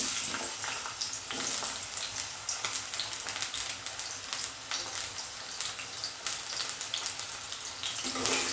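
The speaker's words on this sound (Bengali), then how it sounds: "তেল দিয়ে দিয়েছি কড়াতে, তেলটা গরম হয়ে গেছে। আলুটা ভেজে নেব।" Potatoes frying in hot oil in a kadai, seasoned with turmeric and salt, make a dense, continuous sizzle with stirring scrapes and crackles, close and fairly loud, no speech.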